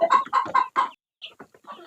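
Chickens raised on a small poultry farm cluck in short, loud bursts close by, a quick run of calls followed by a brief pause and softer clucks.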